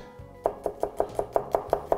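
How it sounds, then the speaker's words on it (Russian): Quick, evenly spaced knife chops through garlic on a cutting board, about eight crisp strikes in a fast steady rhythm. "Быстренько нарезаем чеснок."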